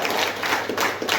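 An audience at a health awareness program clapping, a short burst of dense, fairly loud applause rising and falling in quick waves, with no talk over it.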